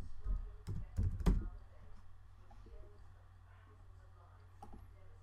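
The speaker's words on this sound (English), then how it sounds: "if I'm going to type in a task called test" Several quick keystrokes clack close on a computer keyboard early on while entering a task in Microsoft Project, followed by quiet room tone and one faint later tap.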